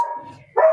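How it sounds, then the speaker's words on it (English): Dogs barking in a house, a short close sequence of two quick yappy barks separated by a brief pause. "I apologize for the dogs."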